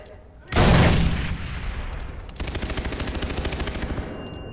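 A grenade going off in the video game Far Cry 3: a sudden heavy blast that rings out and decays, followed by a rapid run of automatic gunfire, close and loud.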